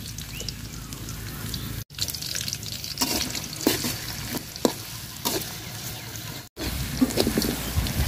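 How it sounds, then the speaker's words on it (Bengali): Onions sizzle steadily in hot oil with cardamom, cinnamon and bay leaves in a home kitchen pan, a close, continuous frying hiss broken by the scrape and clatter of stirring. "পেঁয়াজটা লাল লাল করে ভাজা নিছি"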